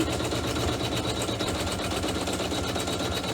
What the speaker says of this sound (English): step number 17 on the machine is going to sew the design on the top